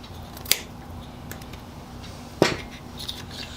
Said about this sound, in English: I'll just clip the end off of this.